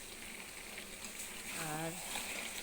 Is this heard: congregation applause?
no